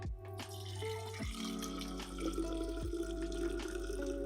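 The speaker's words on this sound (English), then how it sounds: "pour everything inside" Liquid pours into a container with rising gurgling tones as it fills, close and fairly quiet.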